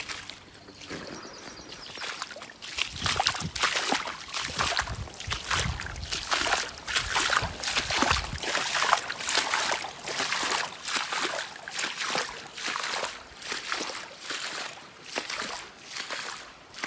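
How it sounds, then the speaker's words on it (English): A hiker wading through a shallow creek in Coyote Gulch, with steady sloshing and splashing water from footsteps close by, continuous throughout. "So the rest of the hike is supposed to be like this, just walking in the water."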